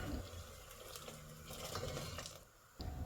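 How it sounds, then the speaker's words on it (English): Water pours steadily into a cooking pot of spices fried with chili powder for a beans and dumplings dish, a soft hissing splash lasting about two and a half seconds before a short pause and a renewed gush. "Now let's add some water."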